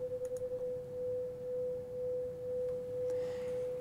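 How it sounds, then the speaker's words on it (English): Two pure tones sound together and beat at about two cycles per second, heard as a single steady pitch whose loudness swells and fades rhythmically, clean and alone without speech. "What it sounds like is a single tone, whose loudness is varying with time."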